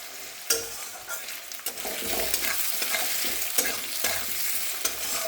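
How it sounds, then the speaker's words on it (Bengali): Onion and potato pieces frying in oil with constant stirring, a dense close sizzle punctuated by scraping spatula strokes every second or so, with no voices. "দিয়ে পেঁয়াজ আর আলু ভালো করে ভাজা হোক"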